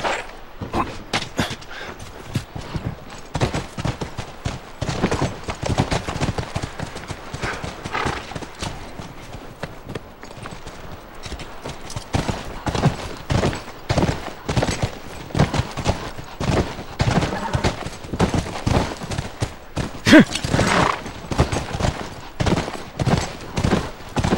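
Horse hooves clip-clop steadily in The Last of Us video game, a dense rhythmic patter of several horses moving close by, with occasional faint whinnies and no talking.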